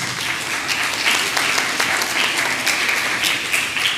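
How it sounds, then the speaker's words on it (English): A crowd applauds steadily at a primary school championship medal distribution, many hands clapping in a dense, even roar with scattered sharper claps standing out, fairly loud throughout. "Yes, you can give a round of applause"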